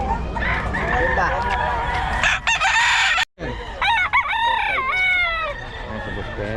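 A Pumpkin Sweater gamefowl rooster, two years old, crows loudly and close, a long rising-and-falling call broken by a brief gap, with background voices and a dog barking faintly.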